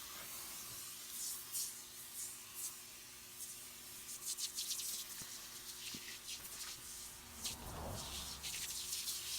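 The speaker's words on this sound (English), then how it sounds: "We're spraying it down here on the radiator guard." Engine degreaser sprays from an aerosol can onto a car engine and radiator guard in repeated hissing bursts, close and fairly loud, with rubbing and shuffling between sprays.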